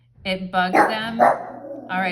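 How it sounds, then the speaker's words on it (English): A pet dog indoors gives several short barks in a row, close and fairly loud, while a person keeps talking over them. "sorry, you guys, that's my dog"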